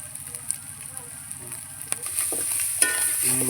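Onions, ginger, garlic, turmeric and chili powder frying in a pan for a meat curry, a steady close sizzle that grows louder partway through, punctuated by occasional stirring scrapes and taps.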